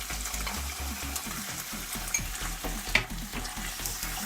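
Tofu and kale stir-frying in a pan with miso paste, a steady close sizzle with intermittent stirring clatter and scrapes, and no talk.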